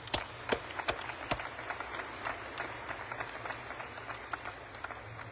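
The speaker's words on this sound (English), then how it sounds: "So, round of applause for my aides." Scattered, moderately sparse clapping from a small gathering at a U.S. Coast Guard change of command ceremony, with a few sharp, close individual claps over a softer background patter and a low hum.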